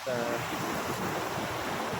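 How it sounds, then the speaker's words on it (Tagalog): Rough sea surf at Sablayan, Mindoro, a broad steady wash of churning waves with wind rush, close and fairly loud throughout, with a brief voice at the start. "Medyo maalon nga lang yung dagat"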